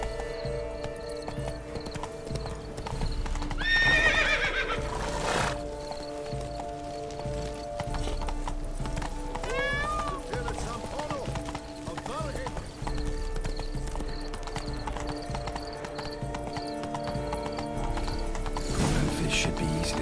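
Horse hooves gallop in The Witcher 3 under background music, with a neigh and faint clip-clops, while voices talk over them.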